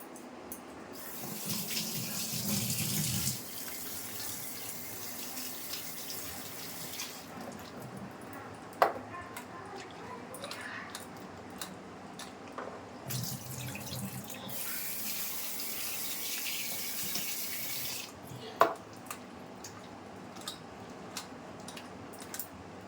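Tap water runs in bursts while potatoes and pointed gourd are washed, with splashing and clinks of the vegetables and bowl between the flows.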